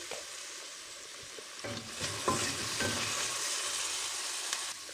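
Garlic sizzles in a pan with crystallized white onions, a steady bright frying hiss broken by a few stirring scrapes and clinks.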